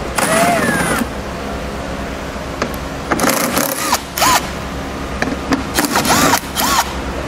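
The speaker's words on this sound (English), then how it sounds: "Now we're going to take out the 3 10mm bolts" Three 10mm bolts being removed with a power tool during a Curt trailer hitch receiver installation on a 2016 vehicle: several short whirring bursts with pauses between them, close by, over a low steady background hum.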